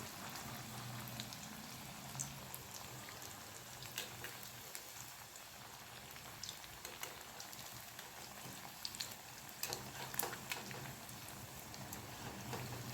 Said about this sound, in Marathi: आणि याला छान गोल्डन रंग येईल तोपर्यंत आपण हे फ्राय करून घेणार आहोत